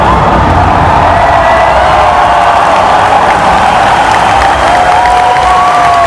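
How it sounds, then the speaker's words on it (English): A huge Gamescom 2015 convention audience erupts at the World of Warcraft Legion expansion reveal, with loud continuous cheering, whooping and applause filling the hall throughout. "Listen to the crowd here."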